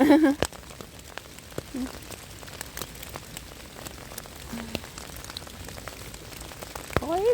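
Winter rain patters through a German forest, a steady hiss of drops on leaves with occasional louder hits, while a person speaks briefly at the start and again near the end.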